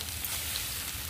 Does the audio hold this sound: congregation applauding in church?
no